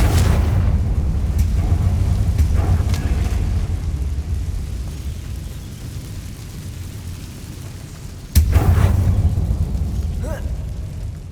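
A Confringo fire spell exploding in the video game Hogwarts Legacy: a loud, sustained rumbling roar that slowly fades, then a second sharp blast near the end.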